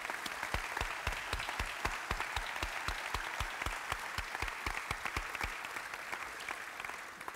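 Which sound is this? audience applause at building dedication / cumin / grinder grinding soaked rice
audience applause at building dedication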